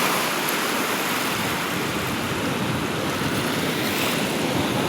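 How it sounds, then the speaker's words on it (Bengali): Sea surf roaring steadily near a beachfront resort at Mandarmani, a dense, continuous wash of breaking waves with wind, loud and unbroken throughout, no voices. "শুনতে পাবে সমুদ্রের গর্জন"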